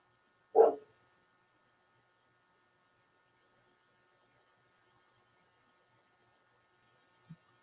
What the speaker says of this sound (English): you cannot bark at the cat for trying to come back out from under the house